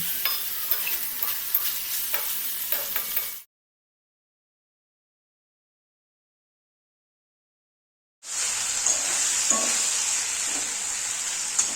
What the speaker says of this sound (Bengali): এবারও আমি অল্প পরিমাণ লবণ দিয়ে ভালো করে কষিয়ে নেব